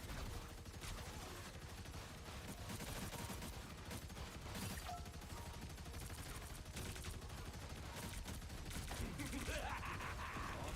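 Heavy weapon firing in Marvel Rivals, a continuous rapid fusillade of gunshots that stays dense and loud throughout amid game effects.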